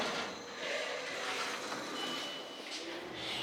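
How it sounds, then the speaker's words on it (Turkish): Steady interior rumble of a passenger train running from Vienna to Salzburg, a continuous broadband roar with rail noise and no clear talk. "Tren Viyana'dan Salzburg'a gidiyor."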